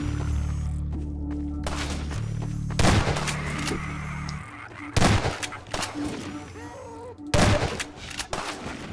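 Sniper gunfire in Half-Life 2, sharp, loud rifle cracks arriving in several separate bursts a few seconds apart, each with a short echoing tail, over a low humming game ambience.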